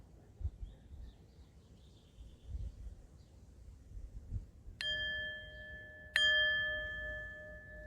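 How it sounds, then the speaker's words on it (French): A meditation bell rings twice to close a nature-themed relaxation session; each strike is clear and resonant, with a long sustained ring over a faint, quiet background. "quand j'entendrai sonner la cloche"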